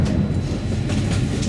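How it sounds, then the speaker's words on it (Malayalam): A Ljubljana-to-Vienna train runs on its rails with a loud, steady rumble and a faint rhythmic clatter, heard from inside the carriage with no talking. "ലുബ്ലിയാനയിൽ നിന്നും വിയന്നയിലേക്ക് നേരെ പോകുന്ന ട്രെയിനാണിത്."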